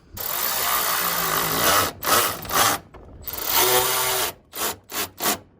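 A power ratchet or wrench bolting the fan shroud back onto a Ford F-250 truck, in several loud whirring bursts of varying length, the last ones short and clipped, with no talk.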